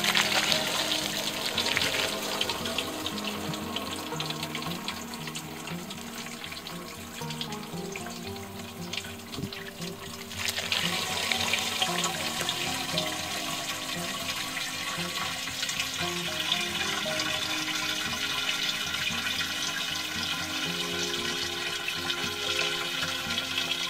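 Melted beeswax pours from a container heated over a propane burner, making a steady liquid splashing and trickling sound that grows louder and fuller partway through, with no talking.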